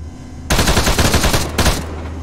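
Machine gun fire near a Russian camp south of Kherson erupts in two loud, close bursts of rapid shots, the first long and the second short after a brief pause.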